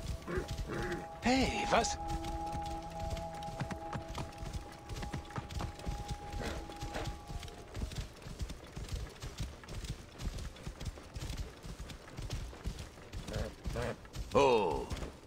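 Horse hooves clip-clop steadily in Assassin's Creed Origins, riders moving along at a moderate, even pace beneath game music and a brief spoken exclamation.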